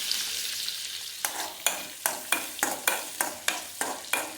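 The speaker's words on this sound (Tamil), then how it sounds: "கொஞ்சம் பொன்னிறமாக வறுத்து" Nuts roasting golden in ghee for a temple offering sweet, a soft steady sizzle broken by a run of regular, sharp stirring scrapes at a near-even rhythm, close and fairly quiet with no talk.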